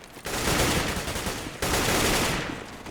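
Two sustained bursts of rapid automatic rifle fire in a Counter-Strike match, dense and loud, the second starting sharply after the first fades.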